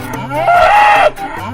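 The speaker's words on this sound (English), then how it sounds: "Cow." A single cartoon cow moo, loud and close, a drawn-out tonal lowing call of about half a second standing alone.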